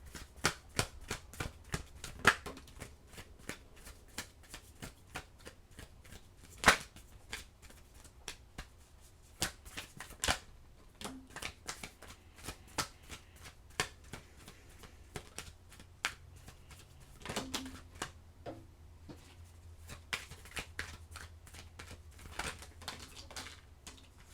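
Tarot cards being shuffled and handled, with irregular light riffling taps and soft slaps spread throughout, fairly faint and close.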